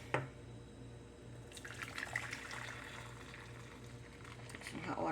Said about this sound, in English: Pour some hot water in here.